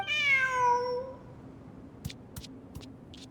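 A cat in Genshin Impact gives one clear, drawn-out meow up front, then quiet follows, broken by a few soft clicks and taps.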